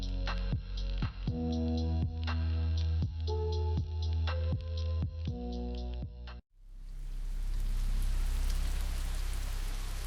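Steady rain falls throughout, a dense, even patter under soft tonal notes at first, then swelling into a full, close hiss of downpour for the final seconds.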